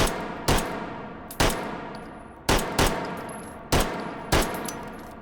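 An early automatic pistol firing .38 ACP in the H3VR virtual reality shooting game: seven sharp, loud shots in uneven pairs and singles, each with a short decaying echo, and no talking.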